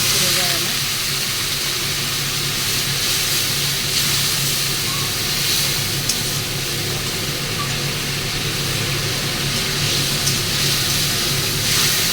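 Water poured into hot frying spice masala for katla fish kalia sizzles in a loud, steady hiss that holds evenly throughout.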